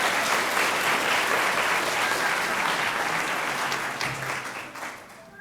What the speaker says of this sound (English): and a round of applause for Sarah and her students